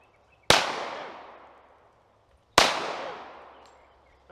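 Two sharp pistol shots ring out about two seconds apart, each loud crack trailing off in a long echoing decay, fired by a shooter walking toward a target at seven yards.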